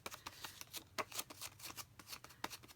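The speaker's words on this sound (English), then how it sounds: "I'm going to remove again the sticker from the back." Sticker backing is peeled off during scrapbook assembly, a quick run of faint, close papery crackles and ticks with no talking.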